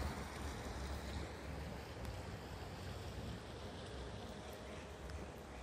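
A shallow brook runs fast outdoors, making a dense, steady rushing wash of water with some gusty broadband noise, continuous and moderately loud with no speech.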